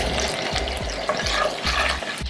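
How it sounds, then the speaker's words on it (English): Rice stirred in a hot frying pan, a steady sizzle with repeated scraping strokes of a utensil at a regular rhythm, close and fairly loud throughout. "Now we're gonna stir our rice just because it's looking a little lonely"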